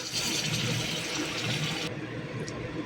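Water is poured into spice masala frying in oil in a pan, giving a loud continuous rushing, sizzling splash that suddenly drops to a softer bubbling simmer near the end.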